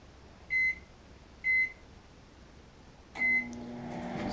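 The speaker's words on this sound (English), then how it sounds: "that'll be our microwave that we'll use." A microwave oven beeps three times at even intervals, each a short clear tone, and the last beep gives way to the low steady hum of the oven starting to run.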